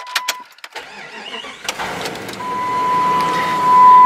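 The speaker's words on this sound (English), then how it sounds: "gonna turn on the car, turn on RJ, see how she's doing" A Jeep's engine cranks and catches after a few sharp clicks, then settles into a steady, close rumble that grows slightly louder toward the end, with no talking.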